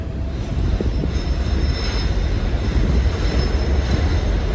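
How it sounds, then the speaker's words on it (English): Train rolling past nearby, a loud, steady roar of wheels on rails with faint high squealing, continuous throughout with no voices. "Oh, here comes the train."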